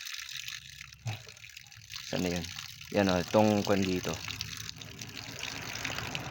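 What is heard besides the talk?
water refilling from a tap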